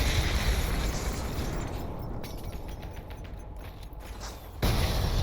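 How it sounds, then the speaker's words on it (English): Explosions go off at once in the first-person shooter Selaco, a rumbling, crackling wall of blasts and pops that thins briefly in the middle before another loud burst slams in near the end. "Everything's exploding at once, you love to see it."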